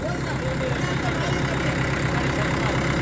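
A tractor stuck in mud runs its engine, a loud, steady, close throbbing drone held at a constant pitch, with voices calling out over it.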